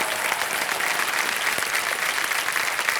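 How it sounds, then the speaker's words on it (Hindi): A studio audience on the quiz show Kaun Banega Crorepati Season 14 applauds a female contestant with continuous, full clapping that stays dense and level throughout. "एक बार जोरदार तालियां बज जाए इनके लिए।"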